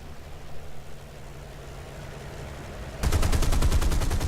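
A Spitfire's machine guns open up in a War Thunder air battle, a sudden loud, rapid burst over the steady drone of the aircraft engine in the last second or so.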